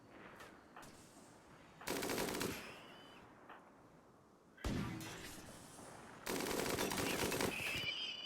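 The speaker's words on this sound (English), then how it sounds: "My turrets down here are attacking them." Turrets firing at enemies in the Warhammer 40,000 Adeptus Mechanicus modded game Rimworld, two long rattling bursts of rapid automatic fire separated by sharper single impacts, fairly quiet, no talk.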